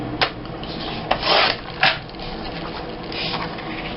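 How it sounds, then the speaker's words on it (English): Paper is trimmed for a scrapbook page in three or four short rasping strokes, with close, crisp scraping swells between quieter rustles. "I'm just going to trim a little bit off the bottom."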